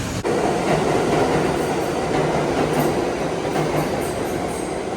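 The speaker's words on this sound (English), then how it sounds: "Now we're going to see this train go" New York subway train leaving a station, a loud continuous rumble of wheels and cars with rhythmic clacking and a faint squeal, staying close throughout.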